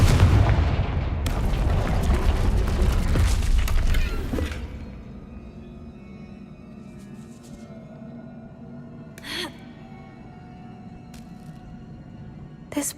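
Confringo fire spells blast in a video game, producing a dense run of loud booming explosions and crackling debris for about four seconds, then a quiet room tone with a few scattered thuds and clanks.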